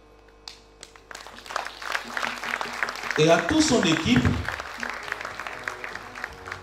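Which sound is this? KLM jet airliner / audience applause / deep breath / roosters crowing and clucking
audience applause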